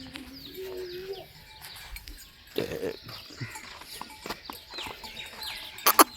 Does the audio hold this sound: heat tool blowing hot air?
no